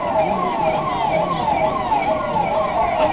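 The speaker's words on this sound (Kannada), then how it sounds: "ಆಂಬುಲೆನ್ಸ್ ಆಗಮನವಾಗಿದೆ." An ambulance siren wails continuously nearby at a disaster-management mock drill in Shivamogga, its rising and falling tone repeating in a steady cycle over road noise.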